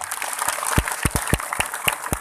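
Applause from a crowd at an Islamic dhikr gathering, a steady wash of clapping with a few sharp, loud claps standing out, no voices.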